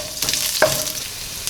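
Broken wheat roasting in a pan for upma, a steady soft sizzle with a light stirring scrape, close and continuous.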